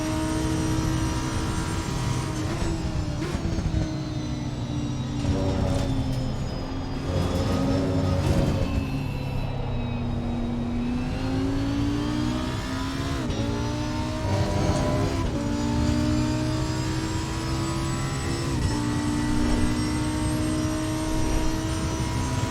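Several GT race car engines in Assetto Corsa Competizione at Suzuka, including an Audi R8 and a Honda NSX, roar loudly and continuously, with pitch rising and falling through gear changes and close wheel-to-wheel running.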